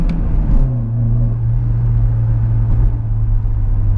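A 1991 Mercedes 124 200CE engine hums at a steady low drone from inside the car on a city drive, with a brief rise in revs near the start and a continuous rumble throughout.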